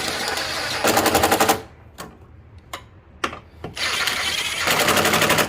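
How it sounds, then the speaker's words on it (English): Impact wrench on its lowest setting tightening an engine mount bolt on a Honda CR-V 2.4L, two loud rapid hammering bursts at start and end with a few short clicks and taps between. "so your impact, just make sure on number 1 setting. Tighten this up."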